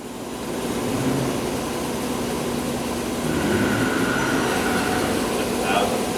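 A Romi M17 CNC combination lathe runs its spindle at around a thousand RPM, giving a steady, even whirr with a faint tonal hum at close range, and a voice can be heard over it.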